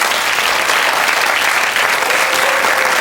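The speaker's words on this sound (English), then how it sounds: "Give her a big hand of applause" A studio audience on a 1992 television quiz show claps in a full, even burst of applause that stays loud and unbroken for a few seconds.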